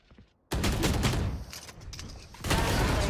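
Rapid gunshots in a shooter video game: after a brief quiet moment, a loud close burst of automatic fire, a short lull, then another sustained volley.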